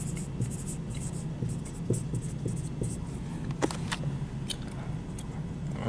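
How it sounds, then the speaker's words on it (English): A pen writes a physics formula by hand on a worksheet, scratching in short strokes and taps close by over a low steady hum, with no talking. "So I always write down the formula just before I plug things in."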